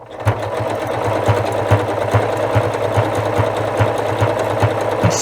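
A sewing machine stitches a dense satin stitch along an appliqué edge, its needle thumping in a fast, even rhythm close up and loud throughout.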